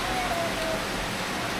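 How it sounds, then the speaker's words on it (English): Steady rain falling outdoors in hot weather in Asia, a dense, even hiss of drops filling the whole clip with no clear gaps, close and moderately loud. "and it is raining"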